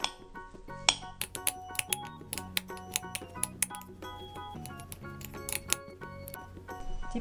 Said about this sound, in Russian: Добавляем растопленное сливочное масло и хорошо перемешиваем